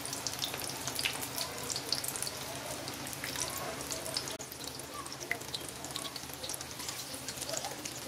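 Pieces of dough fry in hot oil with a dense, steady crackling sizzle throughout, busy and close, without pauses.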